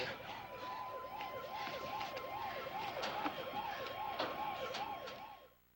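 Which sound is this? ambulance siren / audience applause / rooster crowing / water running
ambulance siren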